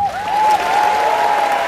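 A crowd at the Kaltenberg knight tournament in Germany claps loudly and steadily, while a sustained horn-like tone rings over the applause throughout.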